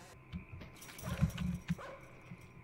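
A dog in the horror video game Inunaki Tunnel gives a few soft, close barks and yips over a low background hum.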